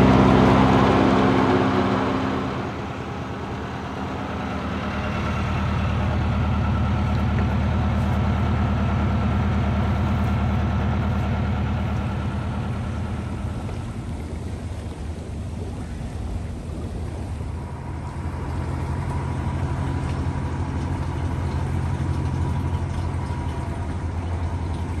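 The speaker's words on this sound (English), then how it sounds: "Ben's engine or gearbox is starting to sound a bit funny" A narrowboat engine or gearbox that has started to sound a bit funny runs steadily for the whole stretch, a low rumbling drone with some swelling and fading, heard near and alone.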